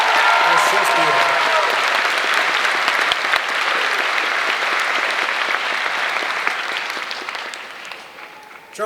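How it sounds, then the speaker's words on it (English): A graduation commencement audience breaks into loud, sustained applause, dense clapping from a large crowd that holds steady and then tapers off near the end. "another round of applause, please"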